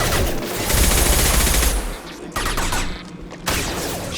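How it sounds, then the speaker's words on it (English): Sustained heavy gunfire in Mass Effect 2, a dense, loud barrage of rapid shots that drops briefly and resumes twice in abrupt bursts, without speech. "Shoot them before they take out your shield."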